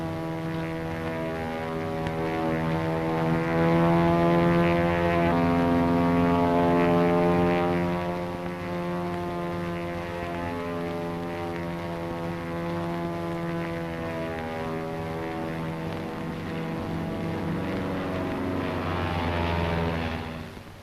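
A World War II P-40 fighter plane's propeller engine drones loud and steady overhead for about twenty seconds, its pitch and strength swelling slightly then easing as it flies past, with no talk.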